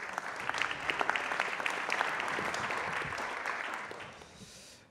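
An audience applauds a speaker at a French corporate conference, steady dense clapping from a crowd that holds for several seconds and then tapers off at the end.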